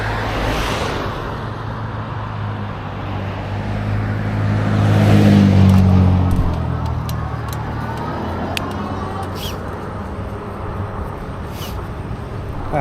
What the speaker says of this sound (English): Maybe after this truck.